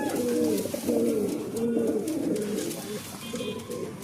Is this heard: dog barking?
no